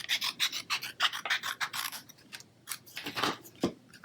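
Scissors trimming a sheet of gold paper for card making, a quick series of close, crisp snips and rasping cuts in an uneven rhythm, fairly quiet.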